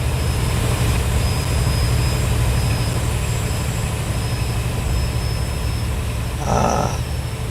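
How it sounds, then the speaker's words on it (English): A Class 50 locomotive's Paxman Valenta diesel engine in a train simulator game drones loud and steady throughout, a dense rumbling roar with a thin whine over it and a brief louder swell near the end. "Ah, Paxman Valenta engine."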